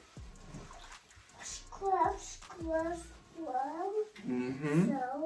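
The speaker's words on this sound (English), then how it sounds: "I usually take a little bit of water, like while I'm shampooing his hair, to get all the extra soap out" Water poured over a young child's shampooed hair to rinse it in a bath, with soft splashing and trickling under a child's chatter and an adult voice.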